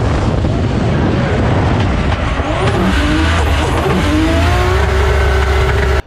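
An 800 hp RB25-powered Nissan S14 drifting at full throttle, engine roaring loud and steady with tire squeal rising over it, close and continuous.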